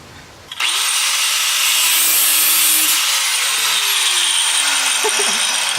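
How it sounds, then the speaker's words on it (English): A power tool bites in suddenly and cuts a part out while work is done on a Toyota Supra, a loud sustained grinding whine with shifting tones, close and continuous. "So what I'm gonna do is cut this out, cut it out right here"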